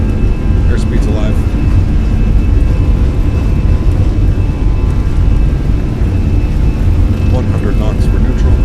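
Airliner jet engines roar at takeoff power in Microsoft Flight Simulator on a runway at Dubai, a steady, loud, broadband rumble holding unbroken throughout with faint tonal whine above it.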